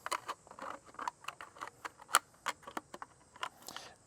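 Scissors or a blade cut down one side of a plastic plant pot or cup, giving a series of close, sharp snipping clicks at an irregular rhythm with no talking.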